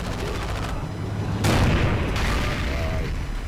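A Flak 88 shell striking a tank in the World War II game Forgotten Hope, a sudden loud boom over constant rumbling battle noise, followed by a decaying roar.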